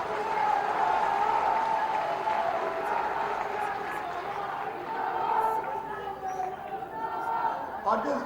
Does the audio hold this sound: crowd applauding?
yes